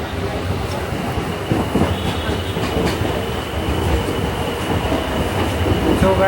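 A Kolkata local train runs steadily on its rails, a loud, continuous rumble with rhythmic wheel clatter and brief squeals heard from inside the carriage.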